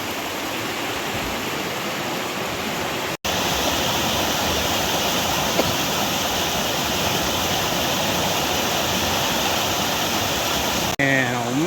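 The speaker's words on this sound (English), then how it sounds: "And oh man, the falls they got here. Crazy." Roaring waterfall at close range, a dense, continuous rush of falling water that stays loud and steady for over ten seconds, briefly interrupted by a cut, with faint voice-like traces near the end.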